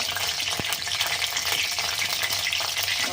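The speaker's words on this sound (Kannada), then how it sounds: "ತುಪ್ಪ ಕಾಯ್ತಾ ಇದೆ, ಸ್ವಲ್ಪ ನೀರೆಲ್ಲ ಇದಾಗಲಿ." Ghee heating in a pan before bread is fried for shahi tukda, giving a steady, close sizzle and crackle that runs throughout with a few sharper pops and no talking.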